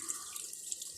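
Tap water runs steadily and hisses as it rinses a waxy residue off a printed circuit board. The flow is close and continuous, with faint splashing and no talk.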